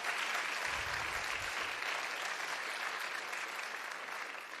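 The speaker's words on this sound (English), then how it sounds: "Let's give a round of applause for Mr. Mike Lindell." Steady, dense clapping from a crowd at a conservative political event in Minnesota, continuous for several seconds with a brief low rumble early on.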